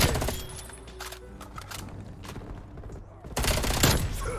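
Streetsweeper shotgun firing in Call of Duty Cold War, with quick loud blasts at the start and again near the end, the quieter middle stretch carrying faint game noise and a voice talking.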